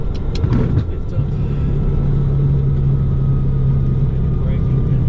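Pilatus PC-24 jet on its landing roll in Alaska, a loud continuous cabin rumble with a steady low hum settling in as braking begins, after a few brief clicks at the start.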